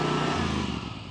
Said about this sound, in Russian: Мы завели трактор.